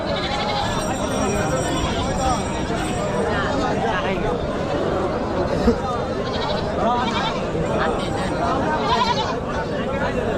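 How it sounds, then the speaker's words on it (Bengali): Goats bleat repeatedly at a busy cattle and goat market in Jamalpur ahead of Eid, their cries overlapping with crowd chatter and people talking nearby throughout. "কয়টা ছাগল নিয়ে আসছেন ভাই"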